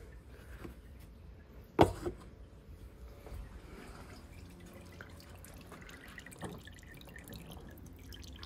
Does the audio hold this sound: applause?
no